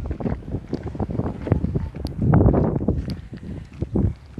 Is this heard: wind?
yes